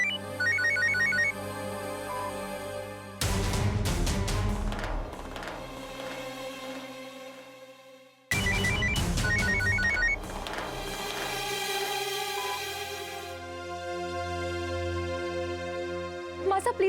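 A phone ringtone plays a repeating musical melody, two rings separated by a short gap, loud and close.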